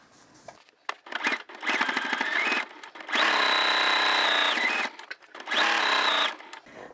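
Sewing machine back stitching a backpack made from plastic placemats, running in several loud bursts of steady high-pitched motor whir separated by brief pauses and clicks.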